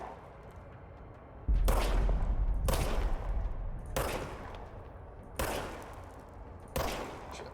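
Video game gunfire from Control: five heavy, booming shots spaced about a second apart, each with a deep thump and a long decaying tail, loud and close with no talking.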